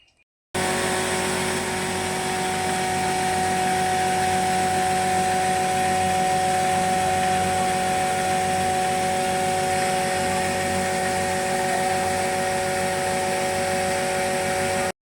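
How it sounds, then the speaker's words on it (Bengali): A rice-grinding mill turning rice into flour for winter pitha runs steadily and loudly from start to finish, a continuous motor drone with a steady whine and no break in its sound. "বাবা সারা রাত ধরে চালের গুঁড়ি কুটিয়েছে, আর এখনও সকাল পর্যন্ত মেশিন চলছে"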